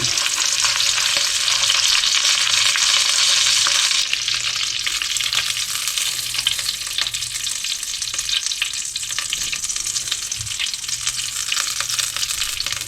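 Beef shanks searing in a hot pan for a Burgundy stew, a loud, bright, continuous sizzle with crackling spits and occasional tool scrapes, the hiss easing slightly after a few seconds but carrying on steadily.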